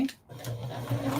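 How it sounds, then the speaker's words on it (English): A sewing machine stitches a long seam on a foundation paper-pieced spring tulip quilt block, giving a short, close run of rapid mechanical whirring with a brief pause. "I'm stitching on this long line right here"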